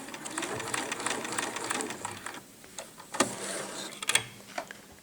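Sewing machine stitching a fabric seam, a close, rapid whirring chatter of the needle that slows and stops, then resumes in short bursts as if back-stitching at the end.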